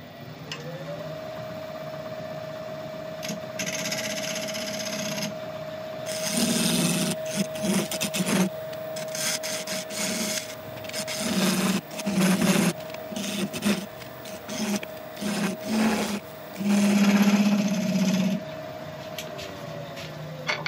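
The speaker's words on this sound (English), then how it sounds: "I'm going to get out the carbide again that we were using a little while ago to start shaping this." A carbide turning tool cuts into a spinning resin-and-wood blank on a lathe. The motor hums steadily underneath while intermittent, loud scraping and rasping bursts come and go, heaviest toward the middle and end.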